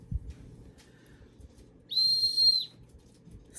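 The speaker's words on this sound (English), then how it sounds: "It says pet training whistle, keep your dog from having bad behavior. When I blew it" A pet training whistle gives one short, shrill, steady blast of about a second, alone against faint room noise.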